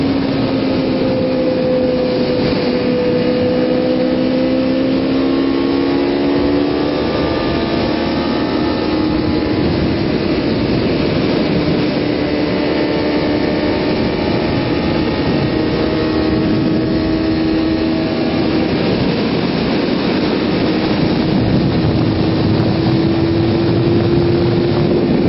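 A group of motorcycles on a Ninja 650R group ride comes up from behind, heard as several engine tones rising and shifting pitch over constant loud wind roar, the engines growing more distinct as they approach.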